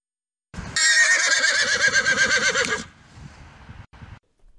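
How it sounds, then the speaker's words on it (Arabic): A horse lets out one long, loud whinny with a shaky, wavering pitch, followed by a few soft hoof thuds. "الفرس يسمى صوته صهيل"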